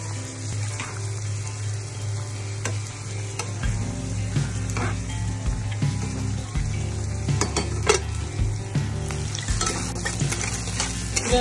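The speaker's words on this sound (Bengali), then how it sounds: "এখানে বেশ কিছুটা পেঁয়াজ দিয়ে দিলাম, একটু ভেজে নিব" Onions frying and sizzling steadily in a pan, loud and continuous, with occasional stirring scrapes and a low hum underneath; no one talks.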